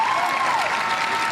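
Crowd cheering and clapping at a Paris 2024 Paralympic boccia gold medal final, a steady, loud wash of applause with a whistle-like tone rising above it.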